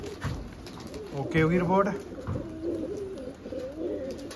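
Pigeons cooing nearby in a coop after their bath, a run of soft throaty coos rising over the middle of the stretch, with someone talking in between.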